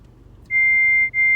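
A single loud, pure censor beep tone starts abruptly after a quiet moment, holds steady, dips briefly, then resumes at full strength.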